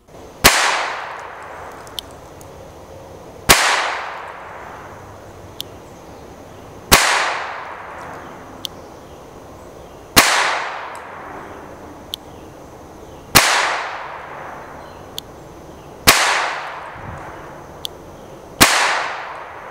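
Deutsche Werke Ortgies .25 ACP pocket pistol fired at a range, six sharp loud gunshots spaced a few seconds apart, each with a short decaying echo, plus faint smaller pops between shots.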